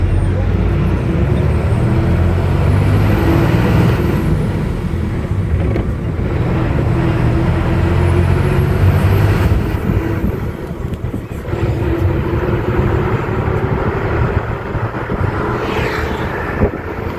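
A bus travels at high speed along a road past a temple, its steady engine drone and road rumble continuous and loud with wind buffeting, while a person talks over it.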